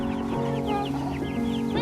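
Several farm chickens cluck and chatter together close by during feeding, a busy overlapping flock sound with a steady low hum underneath and no talking.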